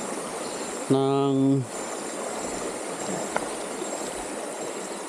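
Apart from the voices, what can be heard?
river water flowing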